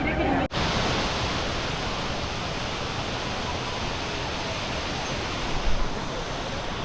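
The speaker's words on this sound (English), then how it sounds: "We're here. Waterfalls in Colombia." Steady, dense roar of a waterfall in Colombia, broadband and constant throughout, with no other sounds standing out.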